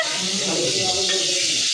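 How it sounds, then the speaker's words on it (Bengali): Eggplant (brinjal) slices frying in a pan at an outdoor winter picnic, giving a steady close hiss of sizzling oil that runs unbroken without talk. "চলছে এখন বেগুন ভাজা"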